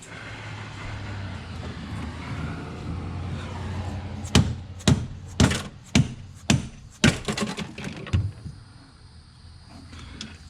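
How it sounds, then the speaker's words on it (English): A series of heavy, dull thuds from a dead blow hammer working on a BMW E36 sedan strike in a steady rhythm, about eight blows, each muffled and short over low background rumble. "Let me try dead blow hammer."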